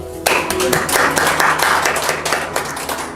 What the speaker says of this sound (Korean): 감사드리고 축하의 박수 드릴까요?